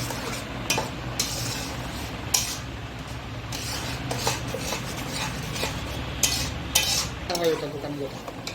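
A spoon stirs a papaya paste into water in a cooking pot for jam, making soft repeated scraping and sloshing with sharper clinks against the metal.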